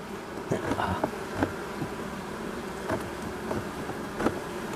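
Honey bees hum steadily around a hive in September, a weak colony recently given a new queen, with individual bees zipping close past in brief louder swells over the constant drone.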